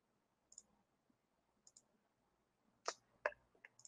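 Computer mouse clicks during a React coding lesson: a few faint sharp single and double clicks, spaced irregularly with a louder cluster near the end, in an otherwise quiet room without talk.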